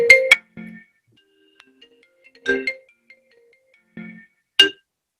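Mobile phone ringtone going off during a lecture, a few short bright electronic chime bursts separated by pauses, clear and close in an otherwise quiet room.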